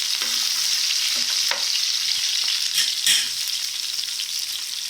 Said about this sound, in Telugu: ఇప్పుడైతే నేను ఉల్లిపాయలు, పచ్చిమిరకాయలు వేసానండి.